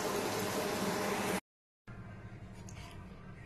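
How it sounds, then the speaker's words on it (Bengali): Paneer pieces shallow-frying in a pan of oil already used for potatoes and cauliflower: a loud, steady close-up sizzle that breaks off into a short silence, then resumes softer with faint scattered crackles, no voices. "চলো এগুলো তাহলে ভেজে নিই পনিরগুলো।"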